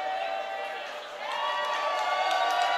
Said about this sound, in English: The crowd loves it, seeing an opportunity for Chad Johnson to take this kick.